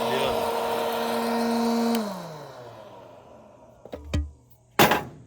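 Electric coffee grinder whirring through light-roast coffee beans, a steady motor drone that winds down after two seconds, followed by a few clunks and a short burst of handling noise.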